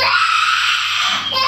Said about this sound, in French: Il hurle beaucoup.